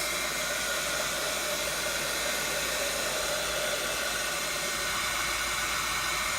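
A heat tool blows steadily to dry slow-drying stamp ink on a journal page, a continuous airy hiss and whirring drone held at an even, moderate level throughout with no pauses.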